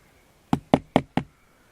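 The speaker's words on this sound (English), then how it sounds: "So we just heard 3 knocks." Four sharp knocks in an even, quick rhythm sound close and distinct against a quiet outdoor night at Sawmill Cove, with no talking.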